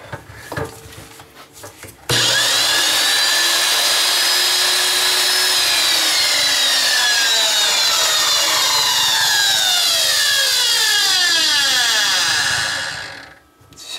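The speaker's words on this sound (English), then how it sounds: "Sounds like the brushes are really getting a beating in there." A 1450 RPM electric motor with worn, struggling brushes switches on and runs loudly for about eleven seconds with a harsh, rasping whine and shifting overtones, then winds down to a stop.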